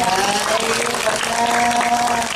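A crowd claps steadily through a Balinese Bondres Arja comedy performance, dense and loud, with sustained flute-like tones and voices running beneath the applause.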